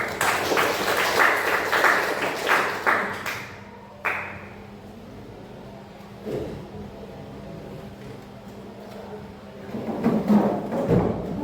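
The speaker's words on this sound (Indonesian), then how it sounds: "Beri aplaus untuk kelompok pertama." A seventh-grade class at an Islamic junior high school applauds the first group, a burst of many hands clapping in a room that fades out, then swells again briefly near the end.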